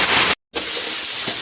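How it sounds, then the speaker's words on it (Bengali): Onions frying in a pan for home-cooked biryani give a loud, steady sizzling hiss, broken once by a brief moment of silence before the sizzle resumes. "পেঁয়াজটা একটু লাল লাল করে ভেজে নিব।"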